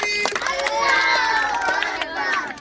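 Children in a classroom clap together in a short, loud, dense burst of applause, with some voices mixed in among the clapping.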